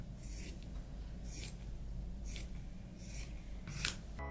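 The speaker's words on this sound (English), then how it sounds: "So this is really, really long, so I'm just gonna go ahead and cut it." Scissors snipping through fabric for a hair bow, about five crisp cutting strokes spaced roughly a second apart, close and moderately quiet.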